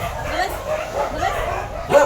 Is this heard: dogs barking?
yes